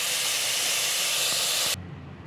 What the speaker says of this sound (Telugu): సో బాగా వేగిపోయిన తర్వాత సో ఇప్పుడు రైస్ వేసేస్తుంది